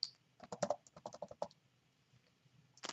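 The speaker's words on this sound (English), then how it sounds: "So I'll type that into here real quick." Quick bursts of keystrokes on a computer keyboard, a short run of fast typing that pauses briefly, then a final cluster of clicks, close and fairly quiet.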